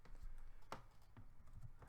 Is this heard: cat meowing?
no